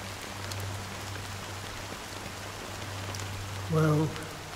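Steady rain patters in a Honkai Star Rail game scene, a soft, even hiss of falling drops close around, with a low hum underneath and a brief tonal blip near the end.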